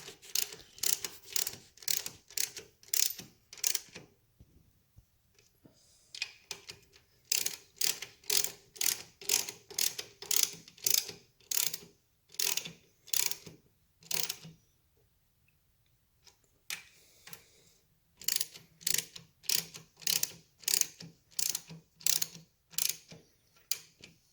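A hand ratchet tightens the kickstand bolts on a 1940 Harley Davidson UH under restoration, giving fast bursts of crisp clicking strokes separated by short pauses, close up and clear with no talk.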